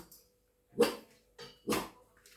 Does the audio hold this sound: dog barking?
yes